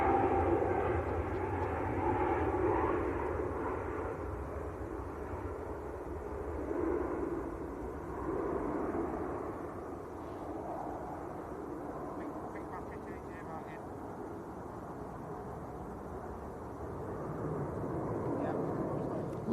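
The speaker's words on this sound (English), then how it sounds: "Lufthansa City A320 Neo." A Lufthansa City Airbus A320neo at Manchester Airport gives off a sustained jet engine roar that swells and eases over about twenty seconds, heard at a moderate distance while someone talks over it at times.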